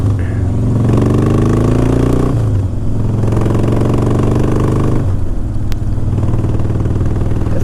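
A Harley-Davidson Softail Standard motorcycle being ridden, its loud engine rising in pitch through two runs of acceleration with gear changes between them.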